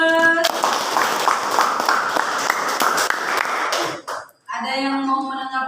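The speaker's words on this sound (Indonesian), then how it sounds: "Oke, kasih aplaus." Students in a classroom give a round of dense, steady clapping that lasts a few seconds and then stops abruptly, after which a teacher's voice speaks.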